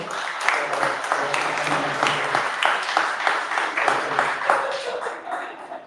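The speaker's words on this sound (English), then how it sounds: "let's give a round of applause to Michelle" An audience claps steadily throughout, moderately loud and fairly even, with faint voices mixed under the applause.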